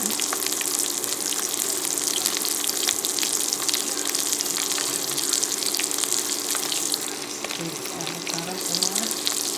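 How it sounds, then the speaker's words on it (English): Avocado oil poured into a hot skillet for cooking turkey neck bones, a continuous close sizzling gush, loud and steady, with brief faint voice sounds near the end. "Avocado oil, add to the skillet."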